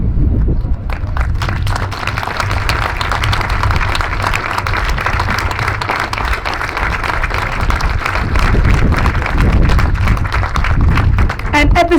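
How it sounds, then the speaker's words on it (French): Loud, sustained applause from a large audience honouring poverty fighters and peace builders, dense steady clapping filling the whole stretch and swelling slightly toward the end. "Et il faut continuer encore à les applaudir très très très très fort."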